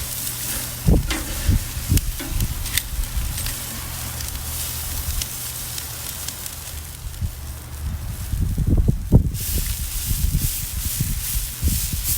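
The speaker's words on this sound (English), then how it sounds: "I'm going to spritz it a little bit, keep it moist down there." A chicken breast on a charcoal grill is spritzed to keep it moist: a steady hissing spray and sizzle over crackling coals, with a few sharper pops and a louder burst of sizzling near the end.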